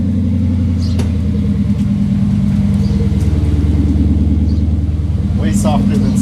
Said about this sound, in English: This thing, naturally aspirated V8 5-liter, amazing music to my ears.